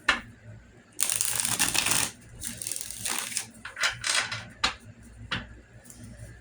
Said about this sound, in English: Allow me to shuffle.